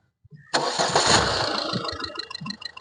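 A 2018 Ford EcoSport Titanium+ engine cranks and fires up sharply after a brief moment of quiet, then settles into a steady, close idle with small flutters near the end. No one speaks over it.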